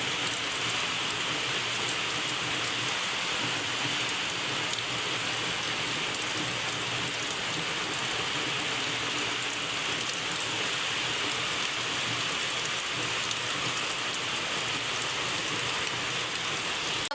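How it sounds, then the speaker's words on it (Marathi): Heavy rain pours down in a steady, unbroken roar that holds at an even level for the whole stretch, with no voices heard. "आता पाऊस चांगल्यापैकी चालू झालाय"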